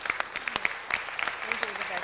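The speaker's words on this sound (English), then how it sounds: "I'd like you to give a great round of applause for Rigoberto Melendez." Audience applause at a city council meeting, a moderate patter of clapping with distinct sharp claps, accompanied by voices and some cheering from the room.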